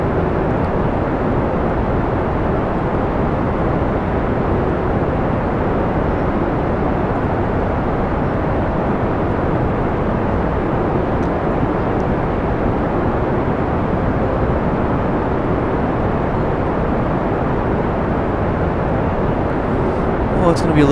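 Steady, dense roar of a rocket engine burning during a Mun landing in Kerbal Space Program, a continuous broadband rumble holding level throughout, with talk over it.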